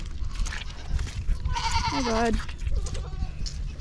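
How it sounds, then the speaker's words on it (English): Farm goats bleat while being fed their grain, with a clear wavering bleat in the middle standing out over shuffling and background noise, and a person briefly speaks. "Probably show you feeding all the goats their grain."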